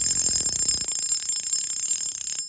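The drag of a Hinomiya Inferno 800 fishing reel clicks loudly in a rapid, shrill ratcheting run that rings sharply over a high whine, slows slightly, then stops.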